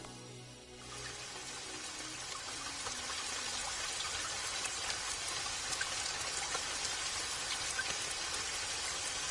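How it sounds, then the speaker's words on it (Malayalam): Steady rain falls and patters on surfaces, a dense even hiss that swells in after a brief quieter start and holds at moderate level with fine droplet ticks throughout. "എത്ര കണ്ടാലും മതിയാവില്ല ഈ മഴ."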